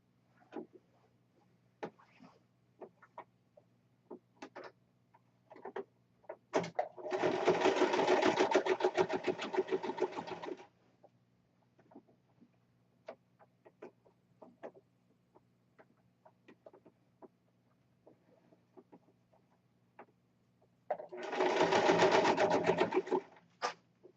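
A sewing machine stitches bias tape onto a corset in two loud sustained runs separated by a long pause, with scattered soft handling clicks and faint clucking fowl in the background.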